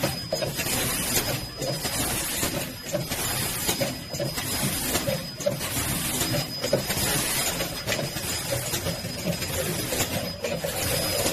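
A plastic cup screen printing machine for PP milk tea and paper cups runs with steady, dense mechanical clatter and regular rhythmic thumps about once a second, continuous and fairly loud throughout with no talk.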